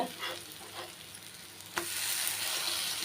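Black urad dal adai batter frying on a hot pan, a steady sizzle with a few soft scrapes before a sharp clack as it is flipped, followed by louder, brighter sizzling from the fresh side.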